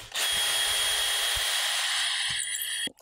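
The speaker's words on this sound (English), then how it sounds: "I've got an 1/8 inch bit chucked up here and let's see if this one is any better." A power drill fitted with a 1/8 inch bit whines at high speed for a few seconds, close and loud, with small bumps and a clunk as it stops.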